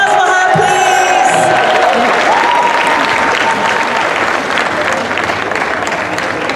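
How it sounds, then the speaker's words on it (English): A crowd applauds and cheers loudly for a woman stepping onto a stage at a Miss Malaika pageant event, with dense sustained clapping, whoops and a brief whistle early on, continuing steadily to the end. "A round of applause for her, please."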